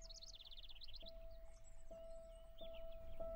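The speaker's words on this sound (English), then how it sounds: "The sound of the birds is so calming." Birds sing softly at the opening of the film Pride and Prejudice (2005), light chirps and twittering trills over a quiet hum with faint, occasional knocks in the background.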